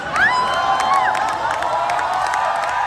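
A large crowd at a live concert shouts and cheers loudly and continuously, with excited yells and whoops rising over the roar.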